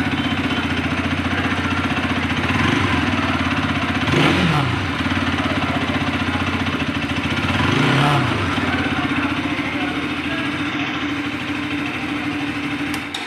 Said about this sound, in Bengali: তো বন্ধুরা এই 2025 নিউ RS200 বাইকটা এক্সজস্ট সাউন্ড আপনাদের কাছে কেমন লাগলো